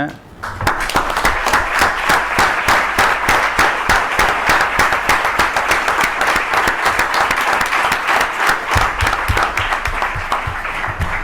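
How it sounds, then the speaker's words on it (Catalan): An audience at the closing of a university research symposium applauds the organising team, a loud, steady wash of many hands clapping sustained for about ten seconds. "Jo m'agradaria que els aplaudíssim."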